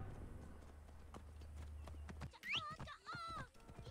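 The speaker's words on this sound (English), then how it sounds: "So let's go ahead and get my horse." A horse in Assassin's Creed Origins clip-clops along at a steady walk, soft hoof beats over a low rumble, followed by a brief neigh and some game sound effects near the end.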